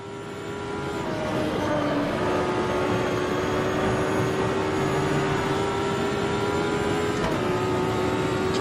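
A race car in a sim racing game at Mid-Ohio accelerates past the start-finish line, its engine holding a loud, steady drone that swells in the first couple of seconds and stays at full volume with no talk.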